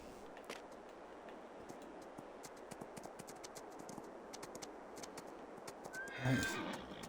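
A horse in the farming game Farming Simulator 22 gives a single loud whinny near the end, rising over a faint bed of scattered ticks and clicks.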